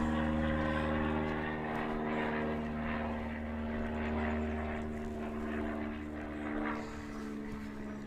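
A propeller airplane passing overhead at a distance, a steady droning engine hum with a low harmonic whine that holds for several seconds, faint but continuous, with no one talking.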